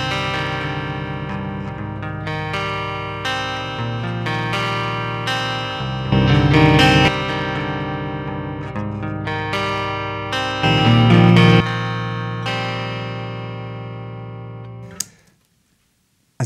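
Overdriven electric guitar from an amp loaded by a Bugera PS1 power soak acting as a dummy load, recorded direct with no cabinet; loud, steady distorted chords and riffs with a few heavier strummed bursts, stopping abruptly near the end.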